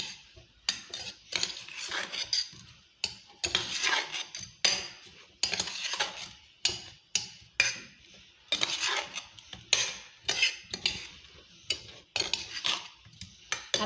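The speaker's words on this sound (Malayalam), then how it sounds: "ജസ്റ്റ് നമുക്കൊന്ന് മിക്സ് ചെയ്യാം" A spoon stirring a recipe mixture with ghee in a metal pot, rhythmic scraping strokes and clinks repeating steadily at close range, fairly quiet, with no voices.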